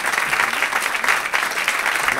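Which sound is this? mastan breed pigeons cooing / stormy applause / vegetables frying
stormy applause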